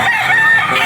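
A young gamecock stag at a pet market crows in one loud, close, strained burst lasting under a second.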